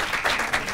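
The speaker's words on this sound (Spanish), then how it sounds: "¿Puede aplaudir la gente que viene por primera vez o nunca ha visto el podcast?" A brief wash of applause from a live podcast audience at a Valentine's Day special, steady and fairly loud for under a second.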